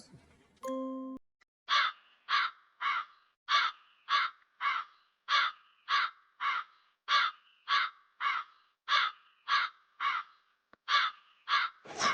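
Cartoon crows in a Hindi animated story give a long run of loud, evenly spaced caws, about twenty in steady rhythm, after a brief bell-like ding at the start.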